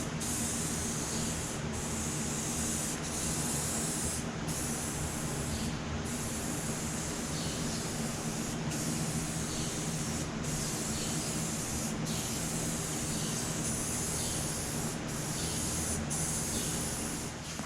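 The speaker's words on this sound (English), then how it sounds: "I'm ready to paint these frames and I'm using Krylon satin black" Krylon satin black spray paint hissing steadily onto frames in thin coats, a continuous close-up spray broken by brief pauses every second or two as the nozzle is released and pressed again.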